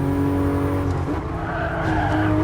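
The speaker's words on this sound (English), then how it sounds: "I'm drifting this thing" A car drifts in the Gran Turismo Sport racing game, with a loud, sustained tire skid over a steady droning engine note that holds throughout without a break.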